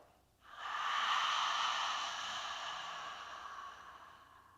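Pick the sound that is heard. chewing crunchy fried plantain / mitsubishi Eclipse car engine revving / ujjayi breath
ujjayi breath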